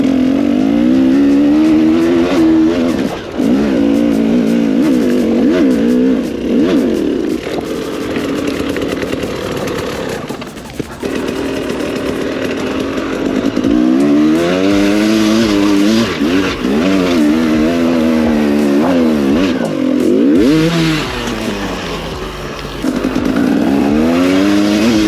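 A dirt motorbike revs hard climbing the steep hills of Wern Ddu Quarry, its loud, close engine rising and falling through throttle bursts and gear changes with only brief dips, no voices.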